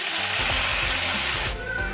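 Potatoes and drumsticks frying in a pan give a steady, soft sizzle, with low bumps of stirring underneath and no voices.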